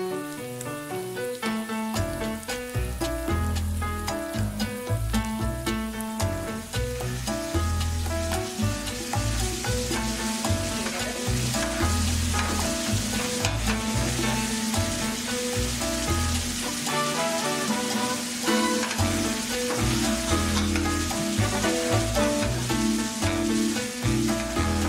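Chopped onions frying in a regular pan, a steady, continuous sizzle with crackling and spitting that holds at an even loudness throughout, with no talking.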